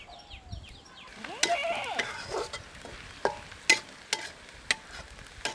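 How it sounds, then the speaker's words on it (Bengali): Onions and green chilies sizzle in hot oil at an outdoor village picnic while a utensil stirs and scrapes the pan in irregular clinks and knocks. "আমরা পেঁয়াজ এবং কাঁচা মরিচটি একটু সময় ভাজি করে নিব"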